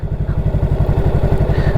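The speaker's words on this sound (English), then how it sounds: "fire it up, engine starts" A motorcycle engine idling just after starting, with a loud, close, rapid low-pitched chugging pulse that stays steady and even throughout, with no voices.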